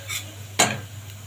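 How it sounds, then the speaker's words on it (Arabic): A spoon stirs lentils with garlic and onion in a pot, making two quick scraping, sizzling strokes over a low steady hum. "هنزل بيه كده ايه على الثوم، وادي البصلايه هديله برده كده تقليبه."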